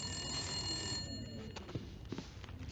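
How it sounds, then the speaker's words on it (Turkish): A telephone rings in the video game The Long Dark, a steady electronic ring that is fairly quiet and fades out partway through, with a few soft knocks and movements after it. "Telefon çalıyor."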